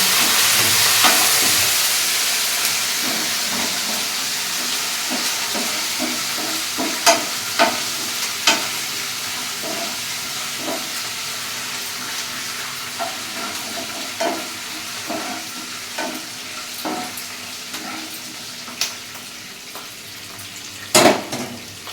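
Curry leaves sizzle in hot oil for upma, a continuous close frying hiss scattered with sharp pops and crackles that sharpen into a loud spatter near the end, with no one speaking.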